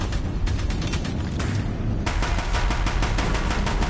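Rapid gunfire rattles continuously on a bridge under attack in Horizon Zero Dawn, dense and loud, with a heavier burst of shots surging in midway over a low rumbling bed.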